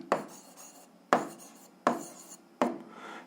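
Numbers being written down by hand during a seventh-grade algebra lesson: four distinct pen or chalk strokes land about a second apart, each a sharp scratch that trails off, close and alone without talk.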